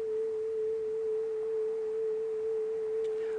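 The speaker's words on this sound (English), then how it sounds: "Which is much closer to what you'd actually be hearing typically from a theremin" A synthesized theremin tone from Reaper sustains a smooth, steady pitch with slight wavering, heard alone and fairly loud.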